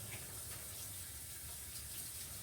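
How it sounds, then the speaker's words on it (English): A kitchen tap runs steadily as a soup ladle that held raw egg is rinsed beneath it, giving an even, continuous close hiss of flowing water with no pauses. "I'll rinse this ladle off"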